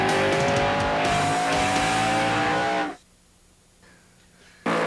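USAR Pro Cup race cars roar past at Greenville-Pickens Speedway, a loud rising engine howl that cuts off abruptly into near silence before another burst of engine noise returns at the end.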